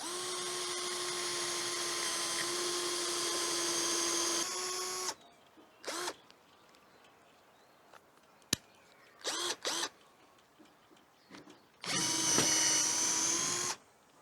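A 21V cordless drill driver running on speed 1 bores into wood with a steady high whine for about five seconds. Short bursts of the motor and a sharp click follow, then a final sustained run near the end.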